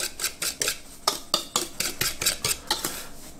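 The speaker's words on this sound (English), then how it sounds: "So make sure you give it a nice whisk." A whisk beating cornbread batter of flour and cornmeal in a bowl, making quick, regular clinks and scrapes at close range with no talk.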